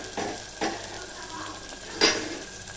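Green chilli and tomato pieces going into a pan for chicken curry, with a faint steady sizzle and three soft scraping stirs spaced across the moment, no voices.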